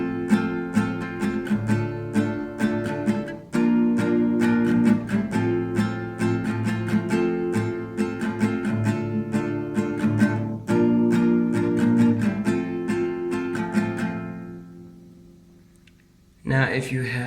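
Acoustic guitar strumming the chorus of a song, steady rhythmic chord strums played twice through, loud and close, trailing off near the end before a final chord.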